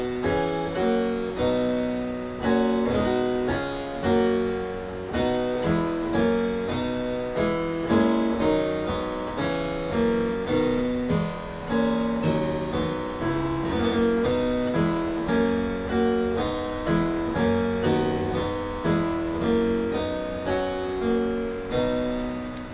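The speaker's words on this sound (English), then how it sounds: "because my harpsichord is a little out of tune. You know, it sounds something like this." A slightly out-of-tune harpsichord plays a steady, busy run of plucked notes outlining a fugue skeleton of cadence patterns. The bright, even texture continues without pause throughout, with no voices.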